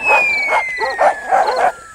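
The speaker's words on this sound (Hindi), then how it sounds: "ये सारे डॉग्स ना यहाँ पेड़ को देख के भौंक रहे हैं।" Several dogs bark excitedly at a tree in quick, uneven yips and barks, close and fairly loud, with a thin high whine running beneath them.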